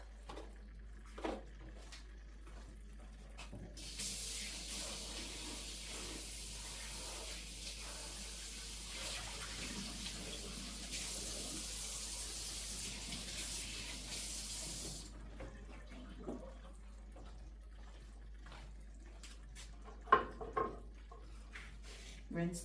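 A kitchen tap runs as potatoes and a knife are rinsed under it for about ten seconds, hissing steadily under faint talk, with clinks and handling noises before and after.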